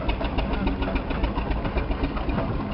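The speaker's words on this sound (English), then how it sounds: "there's the Fowler roller there, number 38, with the large belly tanks underneath" A Fowler steam roller, number 38 with large belly tanks, runs at a steam fair, giving a steady, rhythmic, moderately loud knocking chuff that carries on evenly with no talking.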